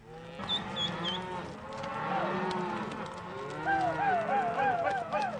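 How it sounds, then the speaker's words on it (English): Cattle moo repeatedly as horses herd them on a ranch, with hooves clopping and shuffling and a few high bird-like calls, all at moderate distance. "The horses also have their own way of persuading the cattle to keep moving."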